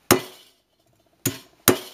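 Three sharp metallic taps of a chisel marking veins into a copper leaf, close and crisp, one tap followed by a pause then two more in quick succession.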